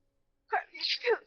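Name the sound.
sneeze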